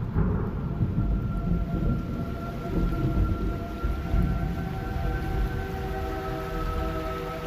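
Heavy rain pours in Metal Gear Solid Delta: Snake Eater, a constant dense wash with deep rumbling underneath and steady tonal hums running through it, heard alone without any talk.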